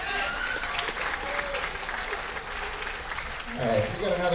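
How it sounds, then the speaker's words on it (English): Audience applause fills a room in a steady, full clapping wash, with a voice briefly speaking over it near the end. "Give them a round of applause."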